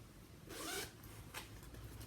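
A turquoise zipper with a purple pull on a small bag zips in one quick rasping stroke, then gives a shorter second pull, faint and close over a low room hum, with no talking.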